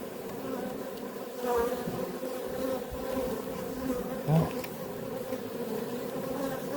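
Honeybees buzz steadily around a hive frame during a beekeeping inspection. The hum is close and continuous, with a few louder passes, and a voice talks faintly under it.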